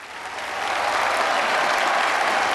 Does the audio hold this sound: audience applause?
yes